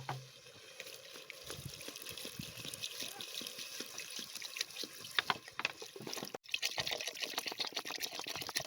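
Water is poured into a chicken curry cooking outdoors, a soft running splash and gurgle over busy background noise, followed by a brief pause and then a louder burst of bubbling and rushing liquid.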